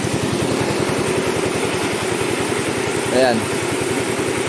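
A diesel engine powering a water pump idles steadily at close range with a regular low throbbing beat, a voice speaking briefly over it.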